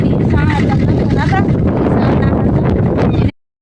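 A farm tractor engine runs loud and close during fertilizer work on a farm field, a continuous rumbling drone that cuts off abruptly near the end, with someone talking over it.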